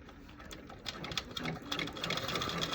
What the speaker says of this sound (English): we're going to do this tack down stitch first. So we're going to go ahead and start that.